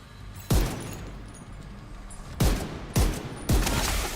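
Video game gunfire landing headshots: four loud, punchy shots, one alone near the start and then three in quicker succession, each with a short echoing decay over a low ambient bed.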